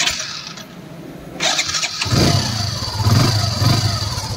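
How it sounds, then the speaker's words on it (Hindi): A Hero iSmart motorcycle's electric starter whirs briefly before the engine catches and settles into a close, loud idle with a rough rhythmic putter. "और इस बाइक का अब हम आपको सेल्फ का साउंड सुनाते हैं।"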